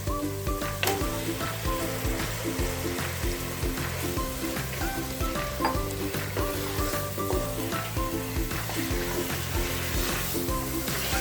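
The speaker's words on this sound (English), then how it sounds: "Now, since the oil has started leaving the side, I am putting in the mutton pieces." Mutton pieces sizzle and fry in hot oil for a home-style mutton curry, a steady close crackle with light stirring over a constant low hum.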